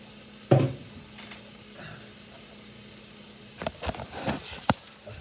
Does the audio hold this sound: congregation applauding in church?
no